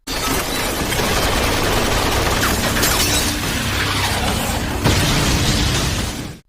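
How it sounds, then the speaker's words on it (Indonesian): Gunfire and a blast tear through an anime scene as a group shoots from outside, a dense, continuous roar of shots and debris lasting several seconds, with a sharp louder burst near the end. "dari luar sekelompok orang menembaki mereka"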